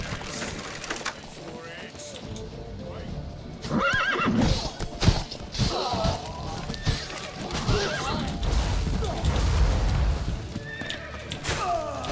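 A horse whinnies amid clopping hooves and commotion in The Witcher 3, with people shouting over the scene; the neighs stand out against a busy game soundscape.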